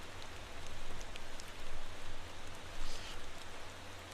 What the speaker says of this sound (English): the rain isn't going to make a huge amount of difference